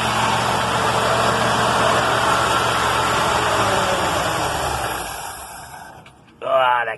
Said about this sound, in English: Idling really high.